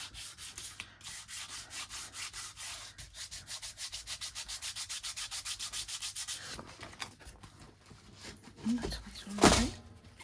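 Rubbing over paper on a mixed media envelope, a steady run of rapid, rhythmic scrubbing strokes close to the mic for about six seconds, followed by scattered handling noises and a louder brief bump near the end.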